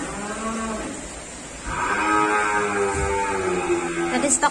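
Cattle bellow with long, loud moos while being unloaded from a truck at a cattle dealer's yard, over steady outdoor noise, with people talking nearby.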